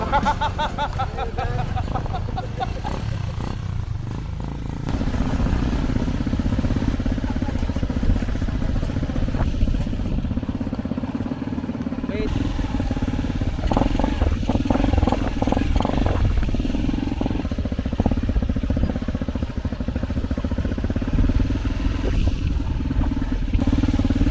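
A motorcycle taxi engine drones steadily at close range, with rattling and clattering bumps over a rough, uneven road throughout.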